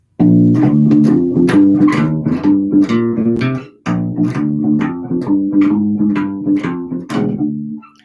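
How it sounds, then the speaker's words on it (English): Walking bass line on bass guitar in a 12-bar blues, each note plucked twice in quick pairs, giving a steady doubled pulse; loud and close, playing alone with a brief pause midway. "another thing you can do is double up on some notes, and by double up, I mean just hit it twice"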